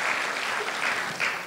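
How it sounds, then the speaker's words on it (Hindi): At a motivational seminar in Mumbai, an audience claps in a soft, continuous patter of many hands, with a few slightly louder swells. The sound is moderately distant and has no talking over it. "मैं एक बार आपके लिए मैं ताली करना चाहता हूँ,"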